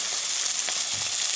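Steady, dense sizzling of bacon frying in a pan, loud and close, a continuous crackling hiss with small pops throughout.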